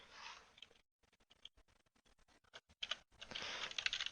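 Quick bursts of typing on a computer keyboard during network router configuration, close and crisp with short pauses between clusters of keystrokes.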